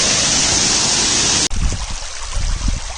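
Flowing river water, a broad steady rush that gives way after a sharp break to a closer, gurgling, uneven stream with trickling splashes.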